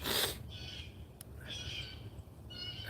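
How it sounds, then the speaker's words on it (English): Blue jays calling outdoors, harsh squawking cries repeating in roughly second-long bursts at moderate distance over a low background rumble. "those birds are so annoying."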